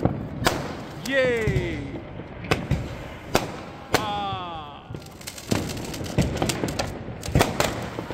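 Diwali firecrackers and fireworks go off in repeated loud bangs, with whistling rockets rising twice, sharp cracks and thuds scattered throughout, while a person speaks briefly over the noise.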